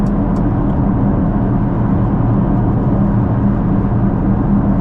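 Audi RS6 engine and exhaust while driving with the quieter exhaust setting selected, a loud, steady low rumble and road drone that stays constant throughout without revving, no talking.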